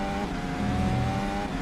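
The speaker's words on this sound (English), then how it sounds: "Can stay on board to listen to the engine for just a little bit" Onboard engine of a Formula 1 car in a racing video game at the Belgian Grand Prix, a steady high-pitched drone held at near-constant revs over a short stretch with no talk.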